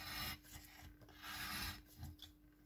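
A blade cutting out the inside of a paper shaker card, with a close, faint rasping scrape in two or three drawn strokes.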